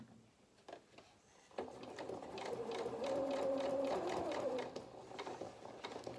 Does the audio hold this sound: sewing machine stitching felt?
yes